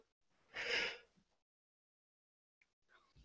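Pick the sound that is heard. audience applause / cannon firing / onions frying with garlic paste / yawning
yawning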